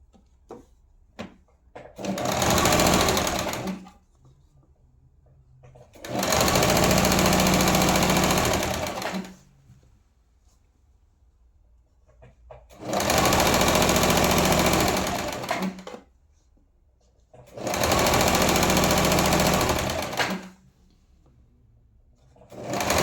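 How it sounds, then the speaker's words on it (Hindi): An electric sewing machine stitches stiff buckram onto salwar fabric in four loud, steady bursts of a few seconds each, separated by quiet pauses while the cloth is repositioned. "सिलाई कर देंगे।"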